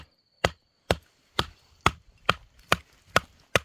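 A small heavy-duty carbon steel knife chops into wood, leaving eight sharp, evenly spaced thwacks close up, each one followed by a short wooden ring.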